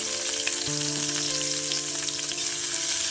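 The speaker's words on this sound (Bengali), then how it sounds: "আমার কড়াইটা গরম হয়ে গেছে, আমার তেলটাও গরম হয়ে গেছে। এবার আমি এর মধ্যে কুচিয়ে রাখা পেঁয়াজ আর লঙ্কাটা দিয়ে দেবো।" Chopped onion and chilli fry in hot oil in a wok with a loud, continuous close sizzle, plus a steady tonal hum in the background.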